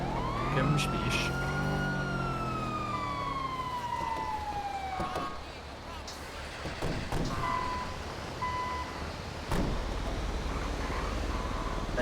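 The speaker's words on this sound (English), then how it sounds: "The ambulance is over there." An ambulance siren in a video game, a loud, close electronic wail that sweeps down in pitch, then gives way to fainter siren fragments amid street noise.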